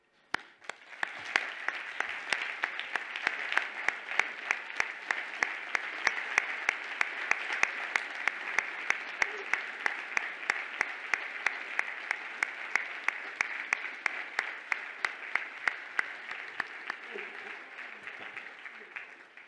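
Graduates and guests applaud at a business school commencement ceremony, a large audience clapping steadily and evenly for nearly twenty seconds, dense and moderately distant with faint voices underneath.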